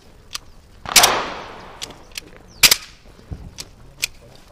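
Rifle gunshots ring out during vehicle combat training, a few sharp, irregular cracks with one loud close blast and quieter reports around it.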